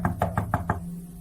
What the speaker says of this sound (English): walked up the driveway, and knocked on the front door